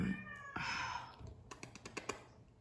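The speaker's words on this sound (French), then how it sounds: "je veux pas qu'elle miaule comme une débile pour réveiller les petites non plus" A cat lets out a clear, close meow, followed by a few soft taps and small household clicks.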